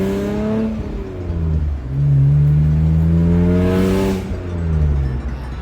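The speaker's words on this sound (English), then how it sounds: "just getting the revs nice and loud, because that exhaust really starts to open up" A road car's engine, the owner's first car, revs hard in low gear with the exhaust opening up, rising and falling in loud close surges with a brief dip between pulls.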